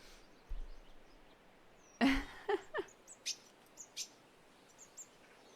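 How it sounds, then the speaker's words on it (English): Recorded birdsong on an overcast, drizzly day, with a few short chirps and tweets spaced out over quiet background and one louder burst near the start. "Real birds, but pre-recorded."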